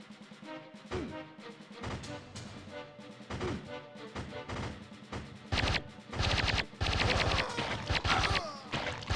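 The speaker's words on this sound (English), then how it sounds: "Oh, they're shooting from across." Enemies fire guns from across the map in a video game, with bursts of rapid machine-gun fire and scattered shots that start sporadic and build to dense, loud volleys toward the end.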